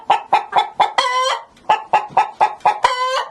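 A Dutch breed chicken clucks loudly and close in quick repeated bursts, with two longer drawn-out squawks breaking the rhythm.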